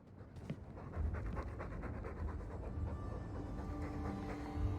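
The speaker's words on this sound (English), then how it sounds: "All that noisy dog breath, day in, day out, make him stop." A dog pants heavily in Dragon Age 2, the quick rhythmic breaths steady and close throughout, with a low rumbling background hum beneath.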